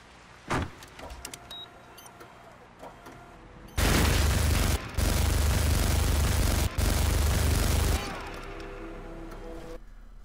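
Sentry gun in a video game firing in long sustained bursts, loud and dense with two brief breaks, set around a small plant-pot barrier and surrounded by quieter game ambience.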